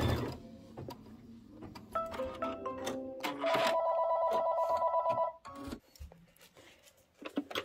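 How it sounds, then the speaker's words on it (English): A telephone rings indoors in a quilting room where a sewing machine is in use, with a loud, tonal electronic ring that holds steady for a couple of seconds among mechanical clatter and handling noises, without speech. "That was Mr. Patrick Mulligan calling to give me some interesting information"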